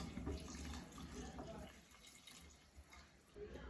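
Water poured into a cooking pot for Tamil chicken biryani with basmati rice, a soft continuous pour and trickle, faint and close, quietening partway through.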